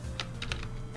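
Arrow keys on a computer keyboard are tapped several times in quick, uneven succession, close and crisp clicks over a low steady hum, with no talking.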